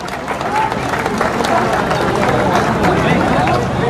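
Crowd applause at a cow-shelter Govardhan Puja event, loud, dense clapping under the murmur and chatter of a large gathering, steady throughout.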